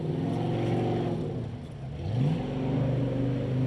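Modified off-road race vehicle launching and climbing a hill during a 4WP Battle in Bluegrass EMC class race, engine revving and rising in pitch, fairly close and loud with no talk.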